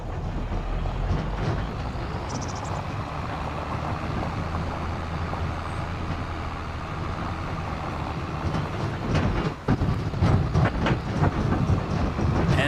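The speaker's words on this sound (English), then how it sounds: "these trailers really make a lot of noise" Trailers rattling behind a tractor in the Farming Simulator 25 video game: a continuous rumbling, clattering roll of engine drone and rattle with occasional sharper knocks, fairly loud and steady throughout.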